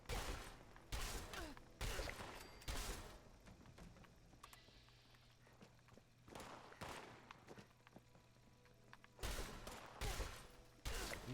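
Sharp gunshot volleys ring out in a farm setting in a video game, arriving in separated bursts between quiet stretches, fairly close and crisp.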